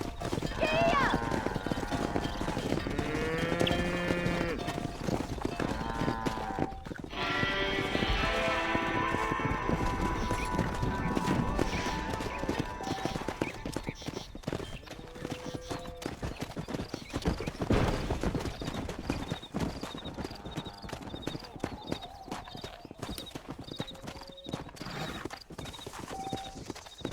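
Horse hooves clip-clop at a gallop in the Red Dead Redemption video game, a steady rhythmic pounding under spoken dialogue, with a whinny and other game sounds mixed in.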